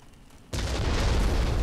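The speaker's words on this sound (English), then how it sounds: "It's gonna blow up." A loud explosion in the Far Cry 3 video game erupts suddenly after a quiet moment, then a sustained roaring rumble fills the rest of the moment, with no talking.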